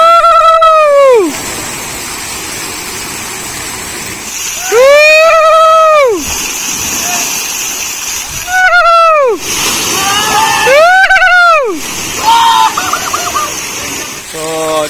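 At a resort swimming pool, a steady, loud wash of splashing water fills the whole stretch, while people let out several drawn-out, shouting calls over it.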